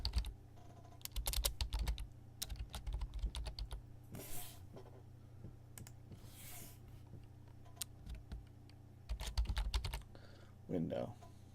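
Typing on a computer keyboard with an unusual layout, the keys clattering in uneven bursts with pauses between, fairly close and quiet over a low room hum.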